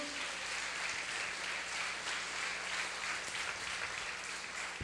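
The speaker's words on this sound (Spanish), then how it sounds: "Si alguien lo cree, denle un aplauso al Señor." A church congregation applauds during a Sunday worship service, a steady wash of clapping spread evenly through the room, sustained and fairly quiet with no voices standing out.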